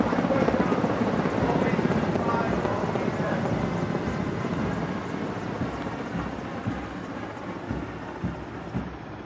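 Four military helicopters flying in formation and carrying flags over the Republic Day parade in New Delhi, 2015, produce a loud, steady rotor drone that fades slightly as they pass.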